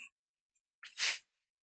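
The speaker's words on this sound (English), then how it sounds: "Morning sneeze." A single close human sneeze with a short sharp inhale just before it, loud and isolated against near silence.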